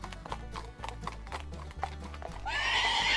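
A horse trots with steady clip-clopping hooves, then lets out a loud, shrill whinny near the end; the animal is close by and heard alone, no voices.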